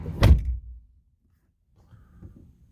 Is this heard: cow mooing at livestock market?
no